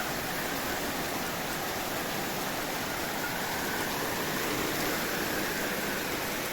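Steady, dense rain pours down during a sudden storm with high winds, a continuous loud hiss with no letup and no voices.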